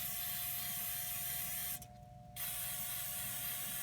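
An aerosol can of DeoxIT contact cleaner sprays into the chip sockets of a Commodore PET, one short hissing burst of under a second set against a quiet, humming room background.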